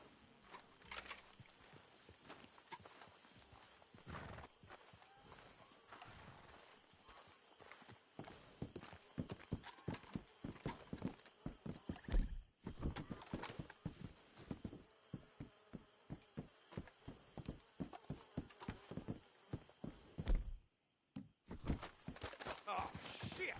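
Horses' hooves clip-clop steadily in a brisk walking rhythm in Red Dead Redemption 2, with a buzzing insect-like drone and brief pauses in between.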